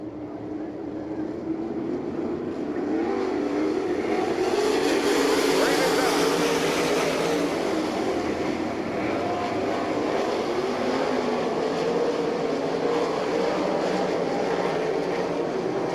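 Sprint cars roaring around a dirt oval in an All Star Circuit of Champions race at Abbottstown, Pennsylvania, a sustained loud engine drone swelling and holding as the leaders battle, with a track announcer talking over it.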